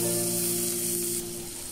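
Vegetables fry in a pan at medium-low heat with black pepper and salt, giving a steady close sizzle over a low hum for a moment.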